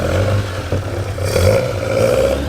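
A Saab bullnose car with a two-stroke engine revs up close at an outdoor classic car show. The engine gives a buzzy, fluctuating tone, rising and falling over a few seconds with some clattery roughness and no talk.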